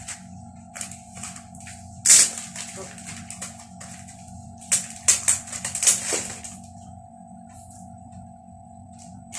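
A new phone is unwrapped from its packaging, with close, sharp crinkles and crisp tearing bursts coming in clusters over a constant low electrical hum, with no talking.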